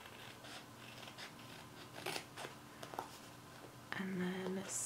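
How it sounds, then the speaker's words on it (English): Scissors trim a sheet of planner stickers at a desk, a string of soft close snips and paper rustles, with a short murmured voice near the end. "I'm gonna just trim the actual sticker sheet here"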